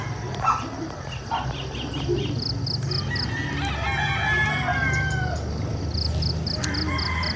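Several roosters crow repeatedly, some near and some farther off, over a steady low rumble of background noise.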